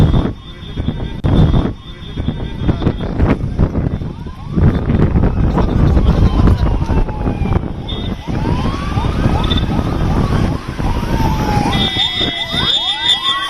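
An ambulance travelling from Mangalore sounds its siren on a busy road, rising and falling wails emerging in the middle distance through loud traffic and crowd noise.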